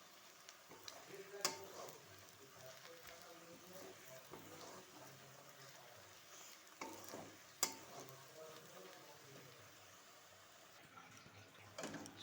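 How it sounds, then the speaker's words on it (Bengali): Onions frying in a wok, a faint steady sizzle with occasional scraping and clinking of a spatula, quiet and continuous throughout. "এবার আমি কড়াইতে পেঁয়াজ ভেজে নিচ্ছি।"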